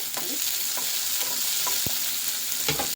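Green chillies and onion fry in hot oil with a steady close sizzle, broken by a few soft scrapes and clicks of stirring; no one speaks.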